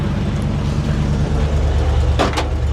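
A 1977 Ford F100 truck with a swapped Tremec 5-speed pulls off, giving a steady low engine rumble close by, with a brief higher burst near the end.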